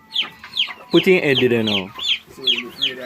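Chickens cluck close by in short, clipped bursts with a louder squawk midway as a young girl handles and throws them, an adult's voice speaking over the birds.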